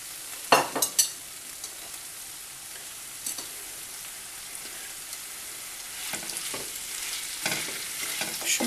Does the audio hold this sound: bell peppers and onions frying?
yes